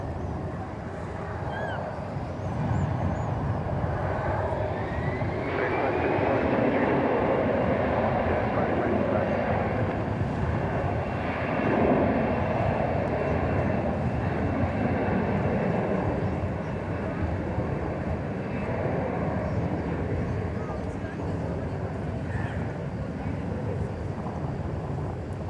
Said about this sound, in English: This is American Airlines Flight 1734.